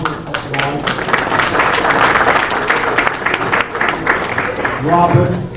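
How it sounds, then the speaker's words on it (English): Audience applause at a Martin Luther King Jr. scholarship breakfast, dense indoor clapping that holds steady throughout, with voices talking over it near the end. "we can salute everyone with a clap at the end"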